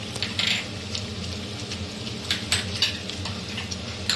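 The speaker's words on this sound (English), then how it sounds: "Stir and cook the puree for the paneer do pyaza" Puree for paneer do pyaza being stirred and cooked in a pan, with a steady low sizzle and scattered light metallic scrapes and clinks of the spoon against the vessel, close and moderately quiet.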